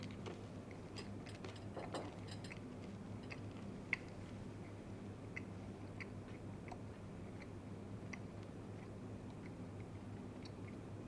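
A mouthful of Skittles candies is chewed in a quiet, close, irregular crunching and squishing over a low steady hum, with no one talking.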